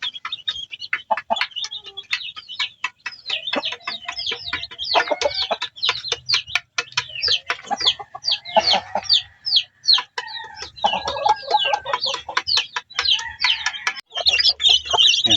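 Chickens and chicks in a temporary pen cluck and peep almost continuously, a busy close chorus of short calls with brief pauses.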